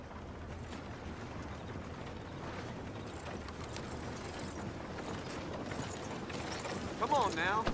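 A horse's hooves clip-clop at a steady walking pace, fairly soft and close, over a low ambient rumble with voices talking faintly now and then.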